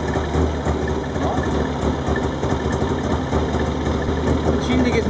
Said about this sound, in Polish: Silnik jest maleńki.